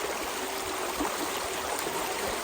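Steady broadband rush of water pouring through a gold sluice box at Nugget Lake, Wisconsin, a continuous close trickling wash with faint gurgles and no voices.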